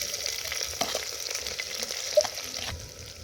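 Shallots sizzling in hot oil with fennel and curry leaves, stirred in a pan with a few soft scraping knocks over a steady, close frying hiss, no voices.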